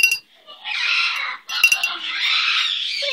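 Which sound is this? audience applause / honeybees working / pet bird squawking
pet bird squawking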